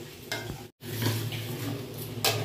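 Raw prawns frying with potatoes and spices in a pan, a low steady sizzle broken by a few scraping stirs of a spatula against the pan, close and fairly quiet.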